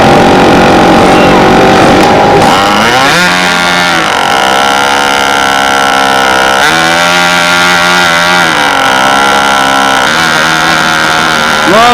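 Twin-engine B-25 model airplane running, its two propeller engines giving a loud, steady buzzing drone that shifts in pitch as they throttle up and down, with the beat between the two engines close by throughout.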